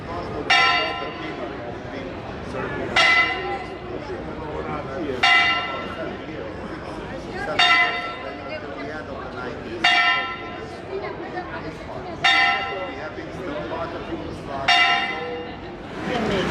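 Church bells ring from an old-town bell tower in Montenegro or Croatia, striking about seven times at a steady, unhurried pace, each clang lingering over a continuous murmur of crowd chatter.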